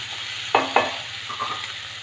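Ginger garlic paste hits hot oil in a pan with two sharp sizzling bursts, then a steady crackling fry with light stirring, close and alone without voices.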